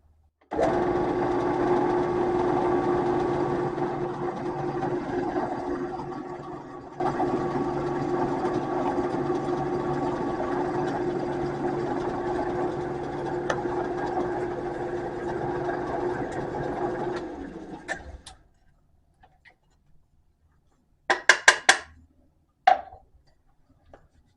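A drill bores through knife handle scale material clamped down for a custom harpoon clip point knife, a steady whirring drone running about eighteen seconds with a brief dip partway, then stopping, followed by a few sharp clicks and taps.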